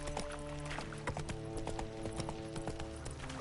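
Roach, a horse in The Witcher 3, walks with steady, close clip-clopping hooves over a constant low hum and drone of background ambience, with no talking.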